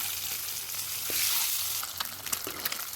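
An egg fries in a little oil in a wok and sizzles steadily and softly, with a few faint clicks of stirring or scraping throughout.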